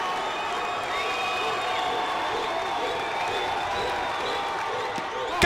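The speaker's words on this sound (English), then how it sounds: "The crowd on its feet." A baseball crowd on its feet in a tense full-count moment at the end of a game, a steady roar of cheering and applause held at an even level throughout, swelling slightly at the very end.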